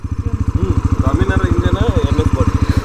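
Bajaj Pulsar NS400 motorcycle engine running in a steady rhythmic throb close by, loud and continuous, with someone talking over it.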